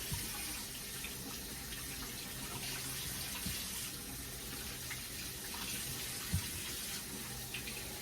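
Tap water running steadily into a sink while potatoes are rinsed and washed, a continuous close hiss and splash with faint clinks from handling.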